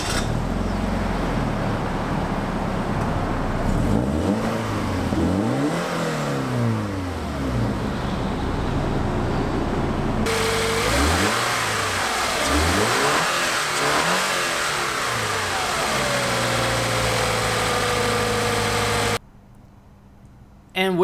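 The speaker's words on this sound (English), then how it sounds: "It's a 2-liter boxer engine." A 2016 Scion FR-S sports coupe's naturally aspirated 2-liter boxer engine revs up and falls back in several rising and falling sweeps, loud and close, ending in a brief quiet moment.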